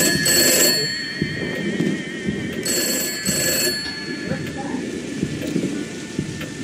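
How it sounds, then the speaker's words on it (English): A phone rings inside a Roblox horror game, a steady electronic ringing that repeats in bursts over a rumbling, rain-like background. "The ringing is my own phone"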